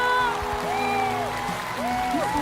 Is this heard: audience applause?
yes